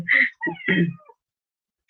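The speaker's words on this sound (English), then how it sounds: "we have the cat here" A cat meows in a few close, clear calls during an indoor conversation, with a short bright chirp at the end.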